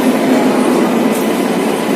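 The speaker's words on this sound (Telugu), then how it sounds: "వైజాగ్ రైల్వే స్టేషన్ అండి" A train rolls through Vizag railway station with a steady, continuous rumble and faint rail clatter, held at an even loudness throughout with no voices.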